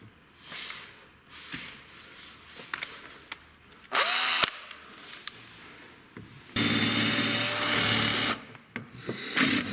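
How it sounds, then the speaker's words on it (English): Power drill bores out a rivet on a VW Golf 6 window regulator, with two loud sustained bursts of whining drilling between quieter scraping and handling noises nearby. "remove the rivet."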